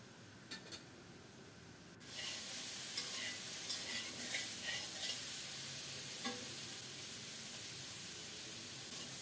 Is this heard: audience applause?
no